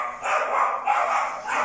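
A small female dog barks in a home, giving a few loud, close, rapid yaps in quick succession that run together with no pause, and no one speaks over them.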